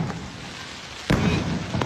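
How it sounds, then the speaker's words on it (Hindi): Fireworks bursting around the Radha Rani temple in Barsana, with sharp booming pops over a constant crackling festive din, one strong blast near the middle and another near the end. "पूरे बरसाने राधा रानी मंदिर के चारों ओर आतिशबाजी का माहौल है"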